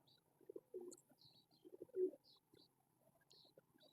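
A pigeon of a 99 breed line gives soft, low, repeated coos in short bursts, fairly faint, with occasional small chirps from other birds in the background.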